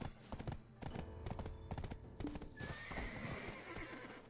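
A horse whinnies over a steady clip-clop of hooves in Black Desert Online, with layered game-style sound effects and music filling the background.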